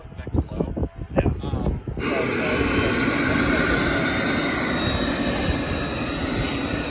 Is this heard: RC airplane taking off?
yes